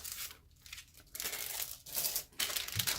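A clear Stampin' Up plastic envelope crinkles loudly at close range as it is handled, in several bursts of crisp rustling separated by brief pauses, with no voices.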